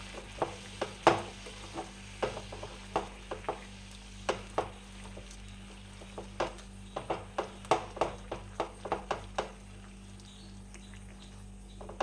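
A spoon stirs thick, clumpy plum cake mixture in a hot pan, giving regular soft scrapes and knocks every second or so over a steady low sizzle, close by and without talking.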